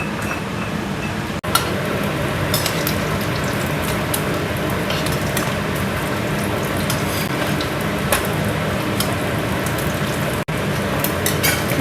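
Garlic chili sambal bawang frying in a little oil, a steady close sizzle with scattered crackles and occasional utensil clinks against the pan, continuing without pause and with no voices.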